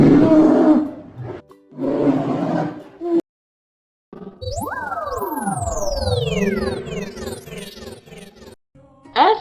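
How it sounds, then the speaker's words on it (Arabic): A polar bear gives two loud, rough roars close up, followed by a pause and then a run of sweeping, swooping electronic tones that rise and fall before one last short growl. "دب قطبي"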